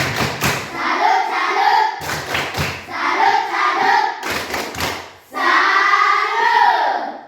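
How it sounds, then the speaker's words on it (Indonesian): Short bursts of group clapping in a quick rhythm alternate with loud chanted voices, the claps landing in small clusters between phrases. "Berikan tepuk salut untuk kelompok 5"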